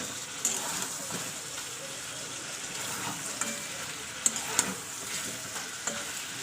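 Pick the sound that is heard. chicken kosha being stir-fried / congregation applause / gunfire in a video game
chicken kosha being stir-fried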